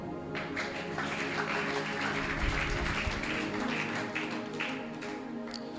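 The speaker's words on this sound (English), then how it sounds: "Clap." Church congregation clapping at a Dominion City service in Ogwashi-Uku, a dense, steady wash of many hands sustained throughout, with music and voices blended underneath.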